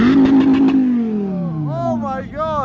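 Car engine revving hard at a Dubai car club lined with classics, a McLaren and a Dodge, with a side exhaust; a strong rising-then-falling rev sweeps past, with shouting voices over the top.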